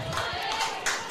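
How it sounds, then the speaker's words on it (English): Rowdy crowd cheering at a high school baseball section semifinal between Northfield and Byron, fans roaring for a batter with the bases loaded; a broad, steady wash of cheering with louder swells, heard briefly. "this Byron crowd is getting rowdy for the second baseman, number 20, Spencer Neerman, with the bases loaded and no outs"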